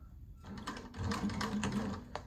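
A New-Tech GC-1541S sewing machine runs in reverse, its steady mechanical stitching hum and rapid needle clatter continuing close up and alone for about two seconds.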